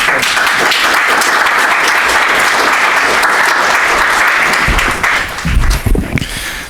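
A conference audience gives a sustained round of applause, dense steady clapping filling the room for several seconds before tapering off, with a few louder claps and shuffling near the end.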